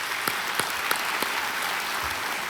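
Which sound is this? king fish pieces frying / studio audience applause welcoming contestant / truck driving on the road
studio audience applause welcoming contestant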